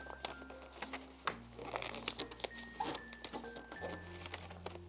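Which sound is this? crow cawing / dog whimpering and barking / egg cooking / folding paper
folding paper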